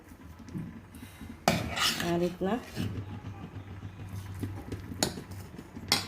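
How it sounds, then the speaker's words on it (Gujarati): Bottle gourd batter is scooped with a utensil into a metal vessel, making scraping clinks and metallic knocks under intermittent talking. "અત્યારે આપણે વાસણમાં થોડો કઢી લઈશું"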